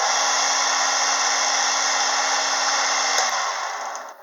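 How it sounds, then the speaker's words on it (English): Sandpaper is held against a spinning walnut pen with a polyacrylic finish on a wood lathe, making a steady, close whirring hiss with a low hum that fades out near the end, with no talk. "Now we can sand off the texture."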